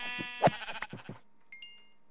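Sheep in the Minecraft video game bleat in a clear, close, wavering cry lasting about a second, followed after a short pause by a pair of thin, high chiming game tones.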